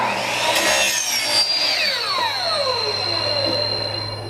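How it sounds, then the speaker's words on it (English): A hand saw cuts through PVC pipe during work on oar locks for a small round boat, with a steady rasping stroke that runs loud and close from start to finish, then trails into a brief high ring as the cut ends. "that's it for our PVC cutting."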